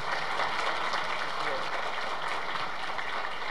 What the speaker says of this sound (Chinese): 我们一起以热烈掌声谢谢我们两位讲员